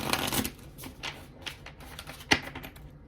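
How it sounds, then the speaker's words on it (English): A deck of tarot cards is shuffled up close, with quick riffling flutters and soft slaps in bursts, ending in a sharper snap as the cards come together. "I feel like I need to give this a shuffle."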